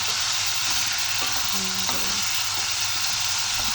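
Chayote sautés in a pan with chili, onion and garlic for a sardine dish, giving a steady, close sizzle of frying with a few soft stirring clinks and scrapes.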